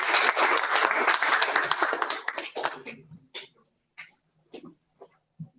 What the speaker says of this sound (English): Can you give a round of applause?